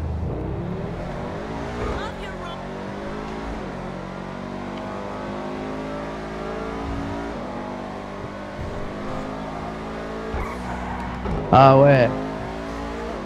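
A Mercedes car drives in a video game, its engine droning steadily with shifting revs and a brief louder surge near the end, while people talk over it in French.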